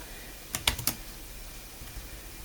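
A few quick key presses on an HP ProBook laptop keyboard at boot, three close, sharp clicks in a tight cluster over a quiet background hiss.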